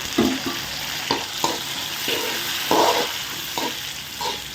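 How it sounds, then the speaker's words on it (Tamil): Chopped tomatoes sautéing with onions in hot oil for a chicken curry, a steady close sizzle broken by regular scraping stirs of a spoon against the pan, roughly every half second to second. "இப்போ வெட்டி வச்சுக்க தக்காளி பிளக்க போடலாம்"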